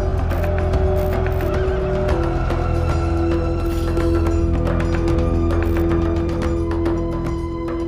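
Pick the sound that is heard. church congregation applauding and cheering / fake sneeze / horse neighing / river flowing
horse neighing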